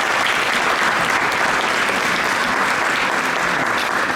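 An audience at a commemorative speech event in Vic-sur-Seille applauds loudly and continuously, a thick wash of many hands clapping at a constant, close level with no gaps.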